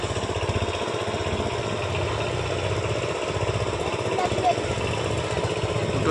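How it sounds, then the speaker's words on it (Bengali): Two tractors plough an overgrown, grassy field, producing a loud, steady engine drone with rhythmic chugging that runs throughout, heard fairly close in open air. "দুটো ট্র্যাক্টর দিয়ে হাল করা হচ্ছে"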